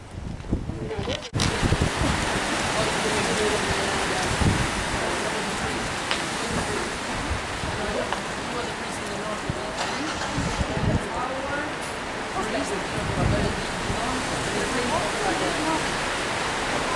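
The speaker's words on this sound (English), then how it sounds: "It's really getting windy." Strong wind gusts roar across the microphone on a bike trip through the Puglia countryside, a heavy continuous rumble and buffet with faint voices beneath.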